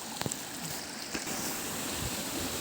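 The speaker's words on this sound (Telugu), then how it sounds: "వాటర్ అలా నీరు అలా కారుతూనే ఉంది" A hillside waterfall pours down steadily in a broad, unbroken rush of water, loud and close, with a few faint knocks near the start.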